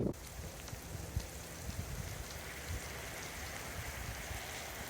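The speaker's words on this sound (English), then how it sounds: "32 degrees, freezing rain, 8-mile-an-hour wind" Freezing rain at 32 degrees patters steadily on surfaces outdoors with a light 8-mile-an-hour wind, a dense continuous hiss of drops with occasional louder ticks, moderately close and even throughout.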